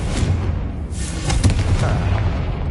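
A Confringo blast spell in Hogwarts Legacy gives a loud, sustained explosive boom with a rumbling low end and a crackling burst near the middle, heard close and with no talking over it.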